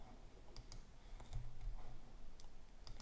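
Faint computer keyboard typing, a sparse handful of soft key clicks spread over a few seconds against a quiet low background rumble.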